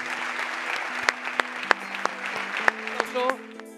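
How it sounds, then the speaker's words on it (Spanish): Audience applause at a Madrid football federation award ceremony, a dense steady wash of clapping with a few sharper claps and whistle-like tones standing out near the end, loud and close. "le vamos a dar un aplauso espectacular para que Carlos lo escuche"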